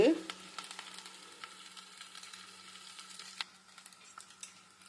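Cooked rice being tipped into fried masala in a pan, a soft steady sizzle broken by scattered light clicks and scrapes, fairly quiet throughout.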